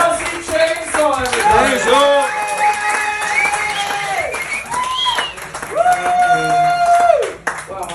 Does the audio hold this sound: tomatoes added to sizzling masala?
no